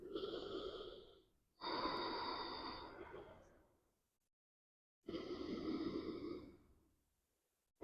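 Slow, audible breaths in child's pose during a core-strengthening yoga session: several long, close exhales and inhales, each fading out, with short silent pauses between them.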